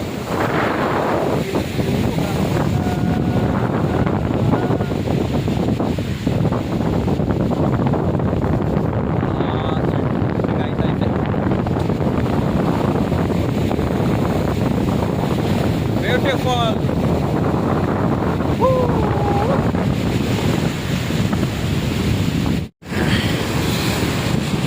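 Wind and waves at a beach near Chennai port: a steady, loud wash of wind buffeting and surf that holds for the whole stretch, with one brief dropout near the end and no voices.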